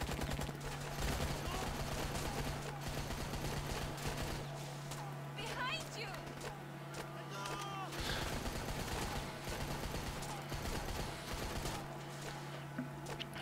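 Gunfire from the Rambo video game: dense bursts of shots and rattling automatic fire run throughout, layered over a steady hum and busy game effects, with a voice talking at times.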